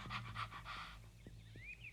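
A cartoon dog pants rapidly in quick breathy bursts, then sniffs in short sharp intakes, close and clear over a low steady background hum.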